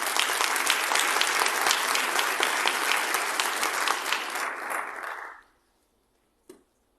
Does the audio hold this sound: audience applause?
yes